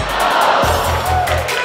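Crowd at the 2019 USA Climbing Collegiate National Championships sport finals cheering on a climber, a loud sustained roar of voices with shouts rising and falling throughout.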